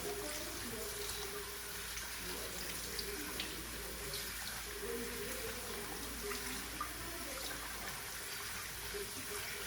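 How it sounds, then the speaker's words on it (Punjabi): Poha is rinsed under a running kitchen tap, with a steady, close rush of water splashing into a sink. It continues evenly throughout, with slight fluctuations from handling and no speech. "ਇਸ ਤਰ੍ਹਾਂ ਵਾਸ਼ ਕਰ ਲਾਂਗੇ ਚੰਗੀ ਤਰ੍ਹਾਂ ਧੋ ਲਓ ਇਹਨੂੰ"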